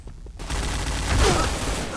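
Bursts of rapid gunfire crackle in the online shooter PointBlank, starting after a short quiet moment and staying loud and dense to the end.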